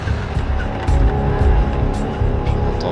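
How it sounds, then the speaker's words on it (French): A drift car at full throttle on track during a French drift championship final at Val de Vienne, its engine roaring steadily with tire squeal and a faint turbo whistle, and a commentator talking over it. "On entend vraiment le turbo chanter sur cette fin de tracé"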